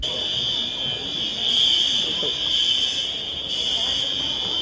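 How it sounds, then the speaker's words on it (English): A loud, piercing electronic alarm tone sounds continuously at an airport border checkpoint in Cairo, pulsing slightly in intensity, with muffled voices faintly underneath. "Suddenly this mad alarm starts ringing."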